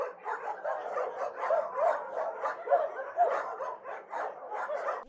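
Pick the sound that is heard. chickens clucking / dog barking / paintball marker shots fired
dog barking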